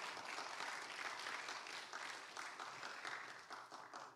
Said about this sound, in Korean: 우리 시장님 나오실 때 큰 박수 해주시기 바랍니다